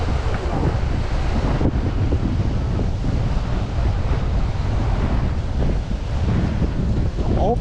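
Strong wind by the water at night at Captree State Park roars steadily into the microphone, loud and unbroken, with a wash of waves beneath and some talking mixed in.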